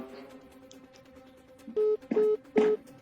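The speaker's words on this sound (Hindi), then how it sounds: "नंबर जब भी डायल कर रही हूँ डायल होते ही कट जा रहा है।" Three short electronic tones from a telephone as a number is dialed, beeping in quick succession near the end over a quiet room background.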